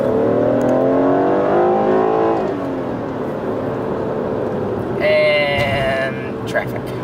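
A BMW in sport mode accelerating hard, its engine note rising steadily under full throttle and then shifting, loud and close from inside the car, with a person talking over it.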